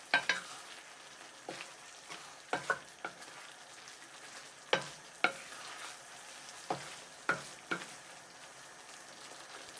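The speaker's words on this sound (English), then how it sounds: "Add the fish pieces. Stir for 15 seconds." Fish pieces being stir-fried in a thick sweet and sour sauce in a pan, with soft sizzling and repeated sharp clacks of the utensil against the pan at an uneven pace, no talking.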